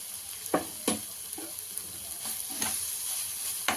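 Goat brain fries in a pan with tomato and chili powder while being stirred, giving a steady sizzle broken by several sharp scraping strokes of the spoon, close and without speech.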